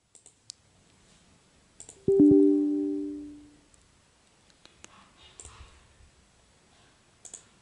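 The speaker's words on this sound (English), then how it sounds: "just right click on it and choose uninstall and click finish" A computer mouse gives a few sharp, isolated clicks spread across a quiet stretch. A short tonal chime-like sound rings and fades partway through.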